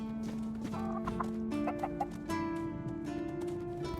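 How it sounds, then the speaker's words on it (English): Chickens cluck in the Tainted Grail video game, a steady stream of near, rhythmic clucks and short calls layered over a held ambient tone, with no talk. "Chickens?"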